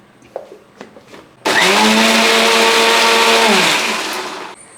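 A few soft knocks, then a mixer grinder grinding fish curry paste with added water roars to life, whirring loudly and steadily for about three seconds before winding down.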